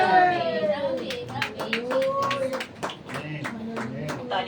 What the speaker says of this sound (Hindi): ताली बजाकर हम परमेश्वर को महिमा देंगे।